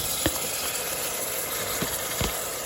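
Tomatoes tip into a pan of frying onions for Kerala-style meat rice, setting off a steady, close hiss of sizzling with a few soft clicks and pops over it.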